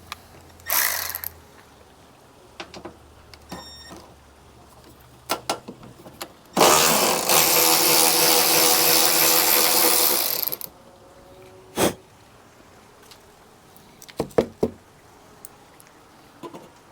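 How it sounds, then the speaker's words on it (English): A ratchet with a deep well socket turns a bolt on a Honda CR-V RD1 while gas hood struts are fitted. Short, scattered mechanical bursts give way to a long, loud stretch of continuous ratcheting, then a few sharp clicks near the end. "we're using a deep well socket"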